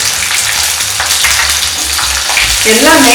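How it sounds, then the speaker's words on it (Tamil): Tomato, coconut, curry leaves, black pepper and cumin fry and get stirred in a pan, giving a loud, steady, close sizzle with scraping, and a voice speaks briefly near the end. "கொஞ்சம் நல்லா வறுத்துக்கலாம். கொஞ்சம் கலர் மாற வரைக்கும் வறுத்துக்கங்க."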